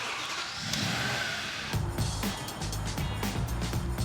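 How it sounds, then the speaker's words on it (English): An Audi S4 out on a test drive, its engine humming and revving steadily at close range with a low drone inside the cabin, broken by a few brief clicks and bumps. "I need to take this S4 out for a test drive"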